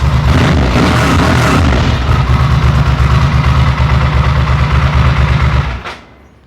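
A Ducati 900SS motorcycle engine, previously firing on one cylinder, idles loud and close with a steady, even throb before cutting off abruptly near the end.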